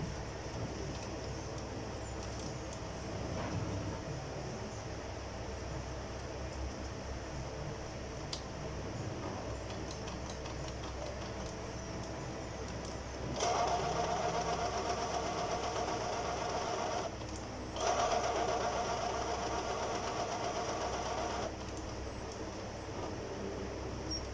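A Brother DCP J100 inkjet printer runs a head cleaning cycle, a low continuous mechanical hum with faint clicks and a couple of louder whirring stretches partway through, close and steady with no talk.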